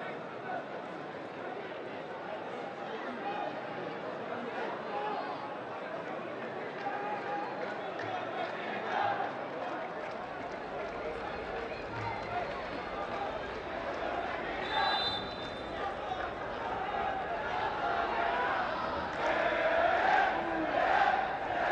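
Crowd of spectators roaring and cheering in the stands at an under-23 men's football match between Saudi Arabia and Jordan, a steady dense swell of voices with a commentator talking over it.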